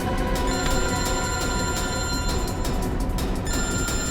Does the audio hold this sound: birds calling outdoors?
no